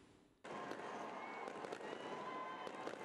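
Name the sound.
fireworks on New Year's Eve night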